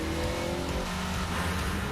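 A car engine accelerating hard in a commercial shown during a baseball broadcast, loud and sustained with a rising, dense roar and a hint of tire noise, filling the whole moment without talk.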